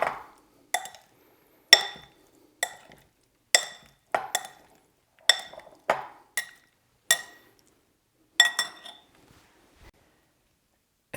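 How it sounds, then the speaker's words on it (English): Arugula, avocado and tomato salad dressed with lemon juice is stirred in a bowl, giving a rhythmic series of about a dozen sharp utensil clinks with short pauses between them. "Give that a big stir to incorporate."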